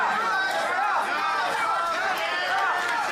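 A wrestling crowd at a Wrestling Federation of America event heckles Brad Baylor, a steady, dense wash of voices, chatter and calls filling the arena, with no single voice standing out.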